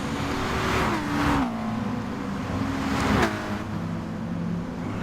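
Lamborghini race car engine accelerating out of a hairpin in a racing video game, a steady engine whine with rising revs and two sharp shifts, mid-volume and without speech.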